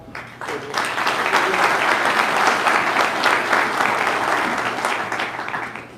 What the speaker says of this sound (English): Please keep that applause going for our next speaker, MHA for Labrador West, Joseph Power.